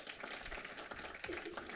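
Brief applause from a board meeting audience honoring a girls volleyball team, a soft, even patter of many hands clapping at some distance, steady across the short moment.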